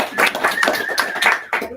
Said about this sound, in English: Big round of applause for Sri.